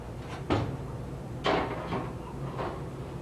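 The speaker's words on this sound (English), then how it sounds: "you just heard me open the drawer, shut the oven off" In a kitchen while a cheesecake bakes, a drawer is opened and shut, giving a few quiet wooden knocks and slides spaced across a few seconds over faint room hum.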